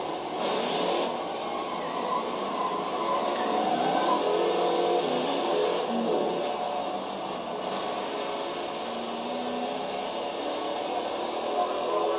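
Race cars in a sim racing series at Kansas accelerate together on a restart, a dense, continuous engine roar holding steady at moderate loudness with no clear individual passes.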